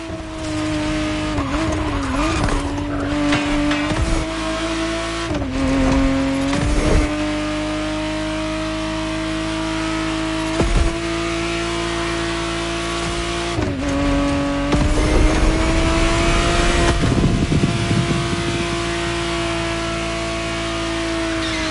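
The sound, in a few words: Ferrari Testarossa 512 TR driving, video game The Crew Motorfest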